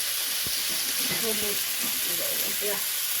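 Potatoes frying in oil for a fish curry, giving a loud, steady sizzling hiss, with faint clinks and a muffled voice or two underneath.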